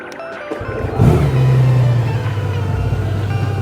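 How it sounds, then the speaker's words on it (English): A Harley-Davidson or Honda Gold Wing motorcycle engine fires up about a second in, catching with a brief rising roar before settling into a steady, close, low idle rumble. "And we're just gonna fire the bike up."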